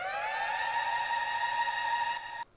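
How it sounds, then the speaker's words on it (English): Synthesized siren effect from late-80s-style acid house production, a single sustained bright rising tone with rich harmonics, held loud and steady for about two seconds before cutting off abruptly. "And yes, obviously the siren."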